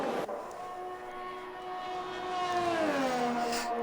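A Formula 1 car engine in a racing video game during a British Grand Prix round drones steadily with a loud, tonal whine, then its pitch shifts sharply near the end as the car changes speed.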